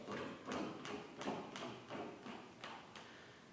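Cello in a string orchestra piece imitating galloping horses' hooves, with steady repeated percussive strokes in a clip-clop rhythm, about seven beats, moderately close but quiet.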